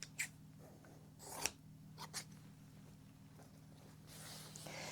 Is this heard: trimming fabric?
yes